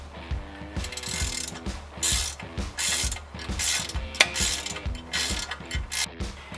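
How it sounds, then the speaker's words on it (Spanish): Ratchet wrench with a 15 mm socket unscrewing a nut on a car's steering during a wheel alignment, giving a steady run of close, loud clicking ratchet strokes, no talk. "Ahora lo que sigue es desenroscar esta tuerca de aquí. Le voy a poner una llave de 15."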